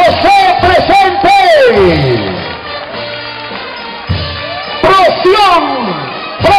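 Crowd at a Fiestas Patrias parade in Bellavista, Lima, Peru, cheers and shouts in loud bursts as a Tai Chi workshop group passes, with an amplified voice calling out over the noise.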